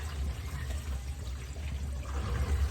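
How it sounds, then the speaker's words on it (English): Water filling and draining in a new Vevor 33-inch stainless steel sink, a continuous low rushing and gurgling flow, close and fairly quiet, with no talking. "Let it go, let it fill up and take it out and see if it's drained under there, leaks or not."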